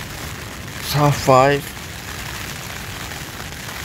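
Wind and rain beat on a tent while camping in Tollymore forest, a steady broadband patter running throughout, with someone briefly speaking over it early on.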